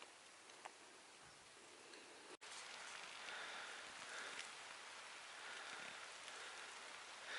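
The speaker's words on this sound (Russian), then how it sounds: "У нас опять пошел дождь." Steady rain falls in a village, a dense, even hiss of drops pattering on surfaces that is close and continuous, with a brief dropout partway through and no voices.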